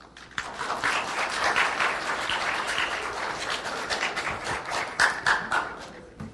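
Audience applause at a 2016 Procuradoria-Geral da República seminar in Brazil, a sustained, full burst of many hands clapping for about six seconds, close and fairly loud with no talk over it.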